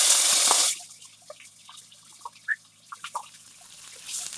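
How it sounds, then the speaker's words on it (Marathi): Soaked rice drains of its water while coconut rice is being made. A brief rush of pouring water gives way to scattered, quiet drips and trickles. "भिजत ठेवलेला अर्धा तास तो भात पूर्ण पाणी निथळून"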